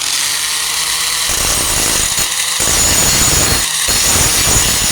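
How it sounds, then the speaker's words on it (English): An angle grinder with a Type 27 grinding wheel grinds down a welded patch on a 1998 Ford Ranger tailgate, a loud continuous abrasive whine with a few short dips as the wheel lifts from the metal. "I'm using a Type 27 grinding wheel"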